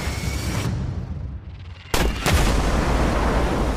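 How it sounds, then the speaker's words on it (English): Loud gunfire shot at a van's tires, with broadband bursts near two seconds over a steady rumbling background, no speech. "You are only supposed to shoot the tires."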